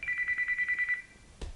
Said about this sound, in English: Even your phone rings? It does.